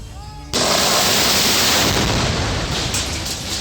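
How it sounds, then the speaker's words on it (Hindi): A large rock is blasted apart at a railway station: a sudden, very loud explosion cracks in after a brief quieter moment, then a heavy roar of debris and falling stones rumbles on and slowly fades. "इस दौरान एक बड़ी चट्टान को ब्लास्ट करके तोड़ने का काम किया जा रहा थ"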